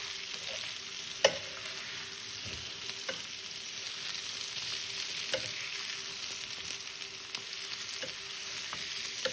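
Potatoes in a frying pan sizzle steadily as onion and garlic powder is stirred in, with a quiet constant hiss broken by occasional spoon scrapes and taps against the pan.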